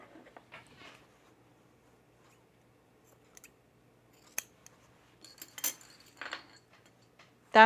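Scissors trim loose threads on a sewn Sintra halter top, giving a few quiet, sparse snips spread across otherwise near-silent stretches, with a light rustle of fabric between cuts.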